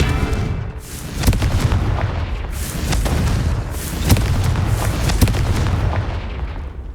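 Repeated Confringo fire spell blasts in Hogwarts Legacy, a series of booming explosive bursts over a rumbling low background, several sharp impacts spaced a second or two apart.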